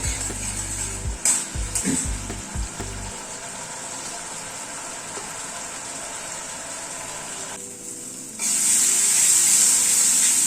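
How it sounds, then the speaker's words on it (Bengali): Tomatoes and garlic fry in a pan, giving a steady close hiss with a few clicks early on, then a sudden, louder burst of sizzling toward the end. "মিনিট 2-3 সময় ধরে টমেটোটাকে কষিয়ে নিলাম"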